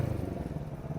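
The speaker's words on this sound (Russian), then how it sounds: "О, уже летит мотоциклист." A motorcycle passes by on a street in a border town, its engine giving a low continuous rumble at moderate distance with no talk over it.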